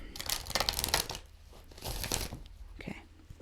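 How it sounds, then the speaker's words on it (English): Oracle cards are shuffled in a few quick bursts of papery riffling and crinkling, close and fairly quiet, separated by short pauses. "One more shuffle."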